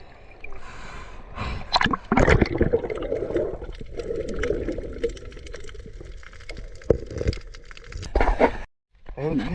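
Strong sea waves wash and slap against a pier, a continuous surging, splashing roar with sharp cracks, close by, with a person speaking over the water noise.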